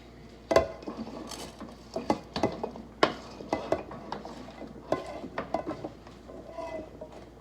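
Ground turkey stew tipped back into a pan and stirred, with repeated clinks and scrapes of a utensil against metal, close and moderately loud.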